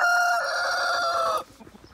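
A rooster crows close by in one long, loud, strained call lasting over a second, then cuts off, leaving faint clucking from hens in the background.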